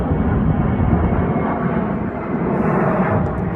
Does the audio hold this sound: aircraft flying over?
yes